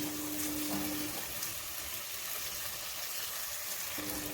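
Hot water poured into simmering chicken masala gives a steady hissing, bubbling sizzle throughout, close and even, with no talking.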